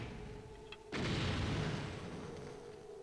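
In the stealth game Thief, a fire attack strikes a builder statue with a sudden loud whooshing burst that keeps roaring and hissing, then slowly fades.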